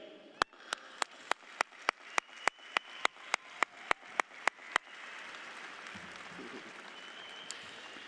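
Audience at a 2020 high school graduation applauding honors students, sharp rhythmic unison claps in a steady beat that break into a sustained wash of scattered clapping, moderately distant.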